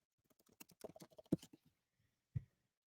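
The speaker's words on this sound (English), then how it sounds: "Apologize if you can hear the typing in the background." Quiet, fast clicking of keys being struck in an irregular run, then a pause and one louder tap, with no voices.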